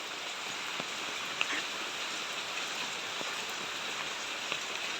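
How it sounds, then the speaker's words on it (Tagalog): Rain falls steadily during Typhoon Guring, a soft, even hiss of drops on surfaces with a few faint louder taps scattered through, fairly distant and without voices. "Umuulan, pumapatak."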